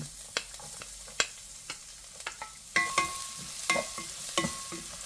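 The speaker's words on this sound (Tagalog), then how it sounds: "gagamitin ko lang itong sun-dried tomato oil para magisa natin ang ating bawang" Garlic sautéing in sun-dried tomato oil in a pan: a steady soft sizzle with occasional sharp taps and scrapes of stirring, growing louder and busier toward the end.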